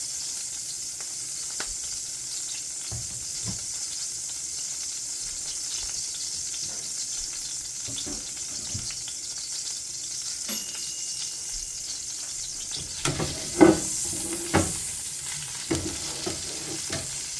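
Crushed red pepper flakes sizzle in hot oil in a pan over medium heat, a steady close hiss with occasional clicks and stirring scrapes, swelling briefly toward the end.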